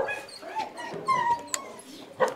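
Dog with fiery red-orange fur in a family's animal pens in rural Vietnam, giving short whimpers and yips close by, with a few sharper sounds near the end over low background noise.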